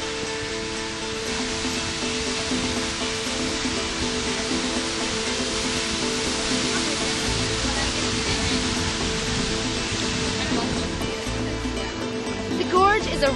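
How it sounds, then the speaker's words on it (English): Many waterfalls in Oregon pour in a dense, steady roar of rushing water that fills the whole stretch without pause, and a voice can be heard faintly beneath it. "you can see so many beautiful waterfalls all in one location"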